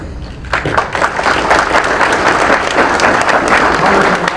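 An audience claps for the candidates at a Republican women's club candidate forum, a sudden burst of steady applause that starts after a brief pause and continues evenly to the end.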